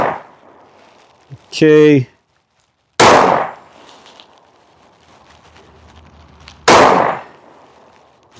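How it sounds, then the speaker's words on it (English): A handgun firing low-cost self-defense ammunition outdoors: two sharp, loud shots spaced a few seconds apart, with a brief spoken word before them and quiet in between. "We're going to take a couple shots and see how this ammunition runs."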